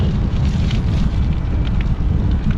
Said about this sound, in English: Oh god, it's windy, horrible, it's cold.